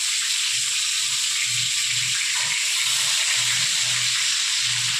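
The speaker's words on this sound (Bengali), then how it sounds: "আস্তে আস্তে এবার বেগুনগুলো ভেজে নেব" Eggplant pieces sizzle and hiss steadily in a hot pan while being fried with spices, a continuous close frying sound with faint low bubbling underneath.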